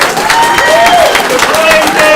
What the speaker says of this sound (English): can we just give Paul a round of applause?